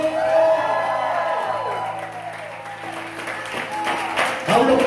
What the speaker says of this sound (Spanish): Un aplauso al Señor esta mañana.